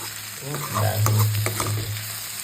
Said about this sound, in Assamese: ৰঙলাও অকণমান আছিলে তাকে এনেকৈ ভাজিছোঁ